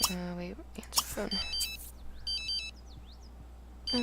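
A phone ringing in The Sims 3, a short electronic ringtone pattern repeating in a few bursts, fairly clear and close, with a person talking briefly at the start and end.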